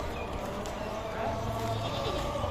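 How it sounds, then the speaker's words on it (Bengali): Castrated goats bleat at a livestock market for Eid qurbani on the eve of the festival, their calls mixing with crowd chatter and people talking close by. "এই পারে রয়েছে খাসি ছাগল।"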